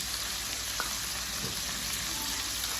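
Garlic sizzling as it drops into hot oil in a home kitchen pan, a steady broadband frying hiss with a soft stir or clink partway through, alone with no talk.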